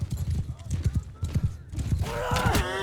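A horse galloping in a mounted-archer battle video game, rapid hoof clip-clops at close range, then a whinny rising near the end over a speaking voice.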